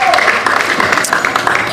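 A crowd applauds at the close of a women's Premier League football match between Port Darwin and Mindil Aces, steady clapping with broadband wash running through a short stretch, a commentator's voice mixed in.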